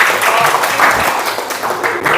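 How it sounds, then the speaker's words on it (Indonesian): A classroom of children claps for the winning group, a dense, close burst of applause lasting a couple of seconds with lively voices mixed in. "Tepuk tangan untuk kelompok 2."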